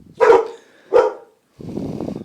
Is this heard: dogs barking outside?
yes